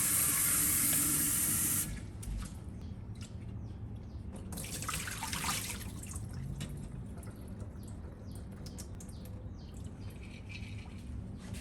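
Tap water rinses lentil sprouts on a kitchen counter. A loud rush of running water comes at the start, then quieter splashing and dripping continue alone.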